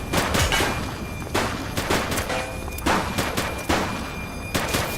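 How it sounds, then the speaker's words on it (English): Rapid gunfire in the police game The Precinct, with repeated loud shots in clusters and irregular bursts over several seconds against a noisy street-battle background. "He's shooting!"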